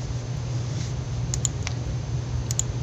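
A few soft keystrokes on a computer keyboard sound as typing into a field, sparse light clicks over a steady low hum.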